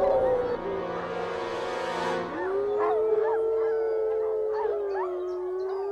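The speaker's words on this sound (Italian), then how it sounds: "Ma poi rispondono tutti con l'ululato di difesa, proprio come farebbero i lupi selvatici." Wolves raise a defensive howl together, one long sustained wavering tone joined by several overlapping higher howls and yips, loud and close, with no talking.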